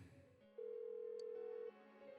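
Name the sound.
phone ringing unanswered, from video game Persona 4 Golden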